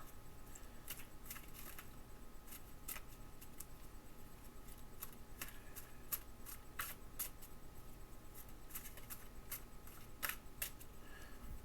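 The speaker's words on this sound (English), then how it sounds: "Give it a good shuffle." Soft, continuous tarot card shuffling with scattered crisp clicks and snaps over a faint background hiss, close and low in volume.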